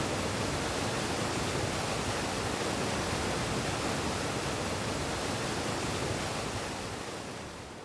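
Roaring waterfall on Yosemite's Mist Trail in winter, a dense, loud, unbroken rush of falling water that stays constant before easing slightly at the end, with no voices.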